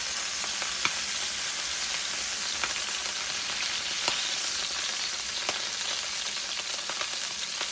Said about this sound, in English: this is starting to sizzle up here a lot